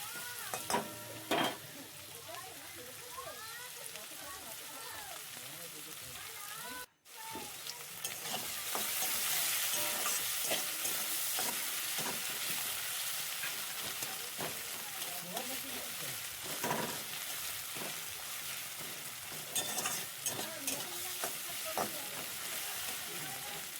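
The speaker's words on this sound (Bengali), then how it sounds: "পেঁয়াজ কুচিটা দিয়ে একবার ভালো করে নেড়ে নেব। পেঁয়াজটাকে একটু লাল লাল করে ভেজে নেব।" Chopped onions are stirred and fried in a pan for a Bengali crab and potato curry, a steady close sizzle with repeated scraping stirs and a brief pause partway through.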